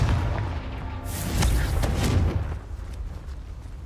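A Confringo fire-spell blast from Hogwarts Legacy, a muffled, boomy burst that swells around the middle and rolls off into a low rumble, with no talking over it.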